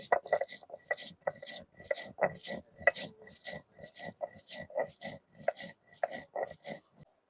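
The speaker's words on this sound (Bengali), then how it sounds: "এবার আমি মশলা বাইটবো" Spices are ground on a grinding stone for an egg-chop-style pitha. Steady, rhythmic scraping and knocking strokes come close and clear, several per second, over about seven seconds with no talk.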